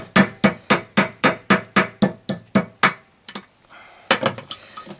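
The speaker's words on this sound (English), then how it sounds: "Tap that in place. This takes just a little bit of friendly persuasion." Steady series of sharp metallic hammer taps seating a spindle bearing on a Kubota RCK32 60-inch tractor mower deck, about a dozen even, close strikes followed by a pause and a few more quicker blows.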